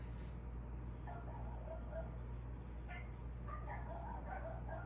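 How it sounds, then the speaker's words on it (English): A small Shih Tzu gives a few faint, distant yips and barks in short scattered bursts over a steady low background hum. "A Shih Tzu dog."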